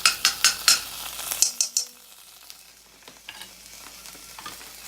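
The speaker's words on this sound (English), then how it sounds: "Grab those in there and get it going. Start to sizzle." Sharp metallic scrapes and taps of a spoon in a pan give way to a soft, steady sizzle of curry paste and garlic frying in oil.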